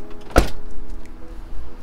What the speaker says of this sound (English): Let's see if the door will shut.